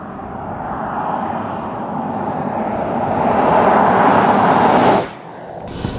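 A 2014 Jeep Grand Cherokee diesel with an 8-speed automatic accelerates hard from a standstill in sport mode. The engine roar swells loud and close, then drops suddenly near the end as revs fall. No one talks.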